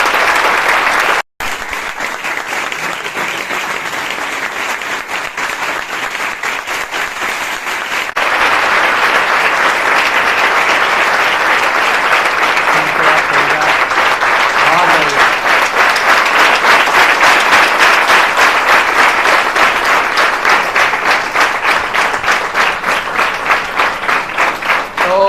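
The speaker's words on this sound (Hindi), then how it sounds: "ज़ोरदार तालियों के साथ स्वागत करिए।" A large audience of students claps loudly to welcome a guest at a motivational session, a long continuous wash of applause that swells further midway and stays strong for about twenty-five seconds.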